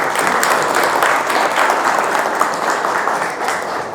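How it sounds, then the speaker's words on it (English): Loud, steady audience clapping for a young man at a conference, a dense close wash of applause holding for several seconds. "Give that young man a clap"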